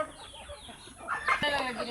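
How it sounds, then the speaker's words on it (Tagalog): Chickens cluck and a rooster calls amid farm noise at feeding time in a sweet potato field, brief clucks building in the second half, fairly close with faint background voices. "mahog na po si Bintoy sa manok"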